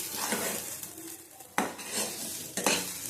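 Garlic and dried red chilli fry in a pan with a steady sizzle, punctuated by two sharp scrapes or clanks of a utensil against the pan, heard close up without talk.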